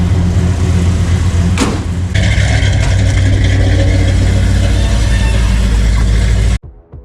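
Old wood truck's engine revving hard on a test drive, a loud steady roar that rises in pitch partway through, then cuts off abruptly near the end.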